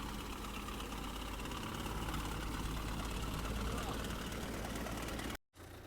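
An MTZ 892 tractor engine runs at raised revs to drive a field sprayer, giving a low, continuous droning hum with a voice briefly heard over it.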